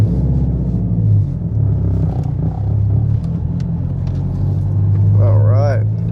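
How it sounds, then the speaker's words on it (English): A tuned Subaru WRX STI idling as it warms up, a steady low engine rumble that carries on throughout, with a brief whistling sound near the end. "let the car warm up"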